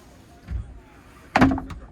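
Bathroom door in a Carthago Chic c-line T 4.9 LE motorhome at the Caravan Salon in Dusseldorf being pulled closed, a soft bump followed by a sharper latching thunk, close by.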